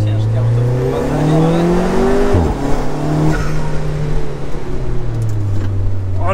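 A 400 hp nitrous-fed Alfa Romeo 4C Spider weighing about 1000 kg drives with a loud engine drone that rises and falls through the gears, heard from inside the cabin while people talk.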